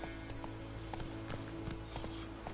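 Roach, a horse in The Witcher 3, gallops in a fast, steady clip-clop of hooves close by, with a constant background hum beneath the beats.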